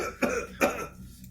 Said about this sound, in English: We come back and we still coughing.